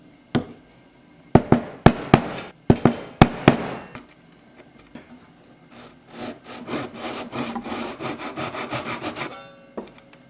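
Hand saw cutting through wood: a few sharp separate strokes at first, then a steady run of quick rhythmic rasping strokes, close up, no voices.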